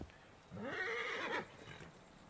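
Horse in Assassin's Creed Origins video game giving a single whinny of about a second, a rising then falling neigh, fairly clear against quiet background.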